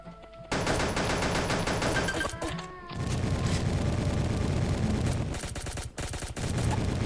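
Rapid bursts of automatic gunfire in the blocky shooter game Pixel Gun, loud and continuous with brief gaps as weapons switch, running almost throughout.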